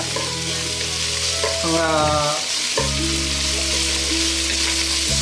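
Cooked chicken breast being stirred in a pot of Filipino hototay soup, a steady sizzling simmer with faint scraping of the spoon, constant and close, with no voices.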